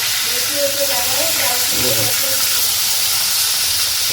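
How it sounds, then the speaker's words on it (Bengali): Fish sizzling and hissing as it fries in a pan, a steady broad crackle throughout with a voice speaking faintly underneath. "লাল লাল করে ভেজে নেওয়া হচ্ছে"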